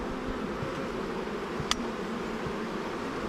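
Honeybees hum inside an opened beehive, a close, continuous buzzing drone with faint rustling and a brief sharp tick partway through.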